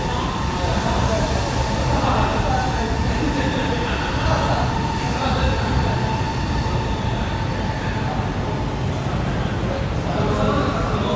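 A train rumbles continuously over an elevated track in Tokyo's Hibiya and Ginza area at night, loud and close overhead, blending with street noise and voices.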